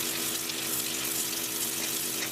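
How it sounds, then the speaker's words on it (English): A high-pressure cleaner sprays water onto stone during restoration work, a constant loud broadband hiss that runs steadily with no breaks and no voices. "Stone is cleaned with a high-pressure cleaner."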